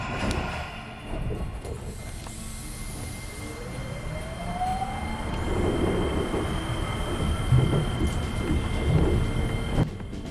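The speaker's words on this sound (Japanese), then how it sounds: "まもなく発車するようです。" A Seibu 8500-series train with amusement-park wrapping rumbles and hums as it departs Seibu Kyujo-mae station, the motor whine rising in pitch while the carriage rattles and clanks, growing louder toward the end.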